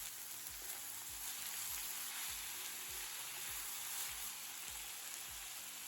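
A constant sizzling hiss of eggplant, potato and curry leaves frying in a hot pan, with repeated low knocks and scrapes as the pieces are stirred.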